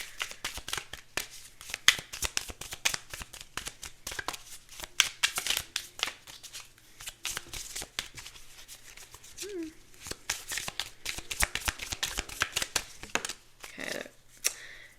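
A deck of tarot cards is shuffled up close in quick, irregular riffles and taps that continue steadily throughout, fairly soft, with a brief bit of faint voice in the middle.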